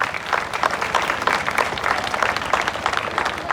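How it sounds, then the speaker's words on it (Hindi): A theatre audience applauds after a play, a continuous wash of many hands clapping at moderate loudness, with no break through the few seconds. "एक बार अपने लिए जोरदार तालियां बजा लीजिए।"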